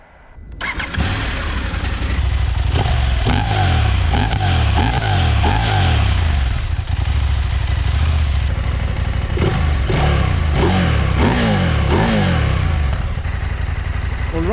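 A KTM 790 Adventure R motorcycle engine cranks and fires up, then idles with repeated sharp throttle blips and revs rising and falling in close, loud bursts.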